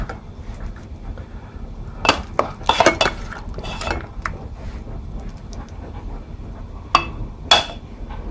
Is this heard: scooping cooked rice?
yes